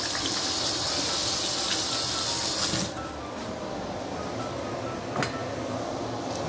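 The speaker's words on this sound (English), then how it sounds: "Let me wash my hand." Hands are washed under a kitchen tap while braised pork intestines are being cooked, a steady close gush of running water lasting several seconds, the flow easing partway through, with a faint clink.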